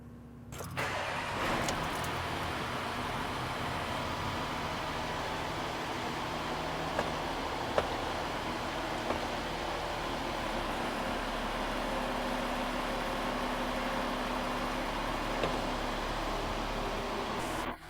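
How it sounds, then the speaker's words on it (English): A Porsche engine idles steadily in neutral, held at raised revs during an automatic transmission fluid change, giving a constant, even mechanical drone with a few faint clicks and no talking. "In neutral, you then rev the engine up to 2000 RPM and hold it there for about 60 seconds."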